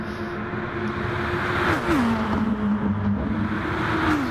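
Racing car engine in a sim racing game, driven flat out up an uphill section: a steady, high-revving engine drone that holds its pitch, shifts once and climbs again, loud and continuous with no talk.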